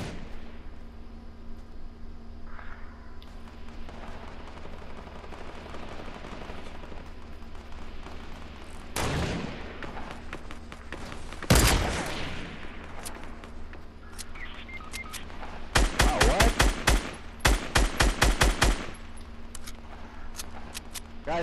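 Gunfire in the video game Fortnite, a few isolated loud shots followed by a fast run of repeated bursts, over a low steady background hum.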